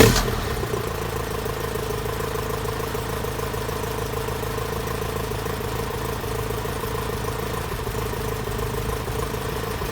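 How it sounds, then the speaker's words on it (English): An Alfa Romeo engine fitted with twin Dellorto or Weber carburetors runs at a steady, even idle just after start-up, a close, continuous low mechanical drone with no talking. "So let's start up the engine."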